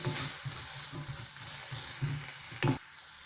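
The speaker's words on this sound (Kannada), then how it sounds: "ಹಸಿಮೆಣಸಿನ ಪುಡಿ, ಖಾರದ ಪುಡಿ, ಅರಿಶಿನ, ಇಂಗು ಚೆನ್ನಾಗಿ ಮಿಕ್ಸ್ ಮಾಡಿ" Ground chilli powder, red chilli powder, turmeric and asafoetida stirred into a sizzling pan for tondekai (ivy gourd) masala curry, a steady hiss with spoon scrapes recurring every half second and a louder clatter near the end.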